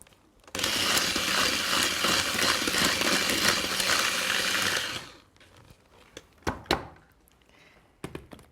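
An electric mixer whisks five eggs into a Christmas cake mixture, a steady loud whirring drone for several seconds that abruptly stops, followed by a few scattered knocks and clunks of the bowl.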